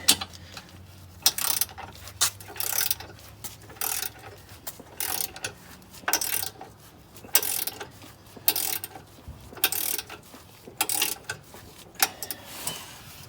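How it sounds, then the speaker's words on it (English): A ratchet turns the nut on a bushing bolt of a 2004 Nissan Murano, giving repeated rhythmic bursts of clicking in short strokes across the stretch, close and fairly loud with no talking. "as long as we can keep turning the nut, it's coming in."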